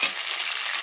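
Onions and green peas fry in a pan with oil, giving a steady, close sizzle that runs for under a second without any voices.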